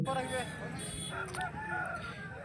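A large rooster, over a year and a half old, crows at a busy village poultry market, the drawn-out call rising over steady crowd noise and nearby clucking, with voices talking in the background.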